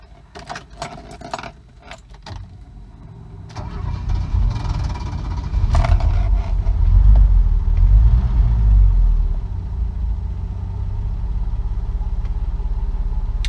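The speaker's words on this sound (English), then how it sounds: "it starts, but it's surely not like a Benz should start" Keys jangle before a Mercedes 280 TE engine cranks and struggles to catch, then settles into a rough, rumbling idle that swells and holds close by.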